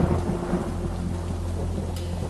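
Heavy rain pours steadily with a deep, continuous thunder rumble rolling underneath, loud and close with no voices.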